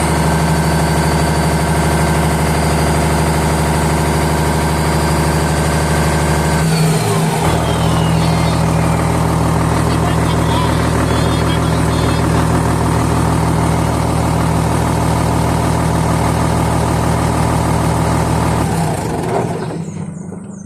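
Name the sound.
Komatsu D65EX-15 bulldozer engine struggling to rev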